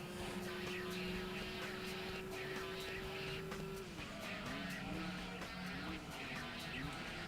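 Racing car engine in Gran Turismo 2 on the PS1 whines at high revs, one long held pitch then a drop and rising gear-change sweeps, loud and continuous with no talk.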